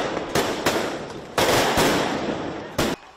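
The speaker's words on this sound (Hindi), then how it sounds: "फोर्सेस ने मुजाहिरीन पर रबड़ की गोलियां चला दी" Security forces fire rubber bullets at street protesters in a Pakistani demonstration, producing a sharp, irregular volley of loud reports over a dense crowd roar, with about five prominent bangs spread across several seconds.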